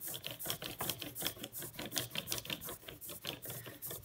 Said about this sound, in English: rolling it in every direction coats it really evenly on your brayer